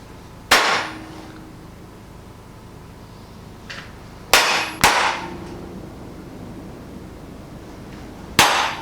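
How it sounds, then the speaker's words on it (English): A hammer strikes a punch to mark the middle of steel bars, four sharp metallic clangs spaced unevenly with two in quick succession, each ringing briefly before quiet. "I'm going to punch the middle of each bar,"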